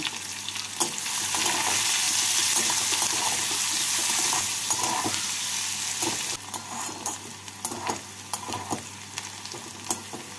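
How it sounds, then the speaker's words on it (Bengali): Two medium chopped onions frying in a pan with steady, loud sizzling, stirred now and then with a few clinks of a spoon, no voices. "এবার এর মধ্যে আমি দিয়ে দেবো 2টো মিডিয়াম সাইজের কুচনো পেঁয়াজ। পেঁয়াজগুলোকে বাদামি করে ভেজে নেব।"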